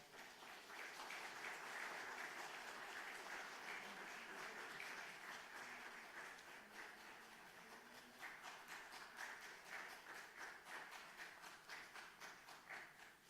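Applause from the congregation at a church installation and ordination ceremony, a long, steady clapping from many people that thins slightly midway and then becomes more rhythmic, heard at a distance in a large room.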